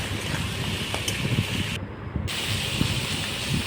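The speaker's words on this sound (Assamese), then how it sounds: "এতিয়া অলপ টাইম এনেকৈ ভাজিম।" Goat meat fries with salt in a hot pan, giving a steady broadband hiss and sizzle throughout with small crackles, briefly dipping for a moment mid-clip.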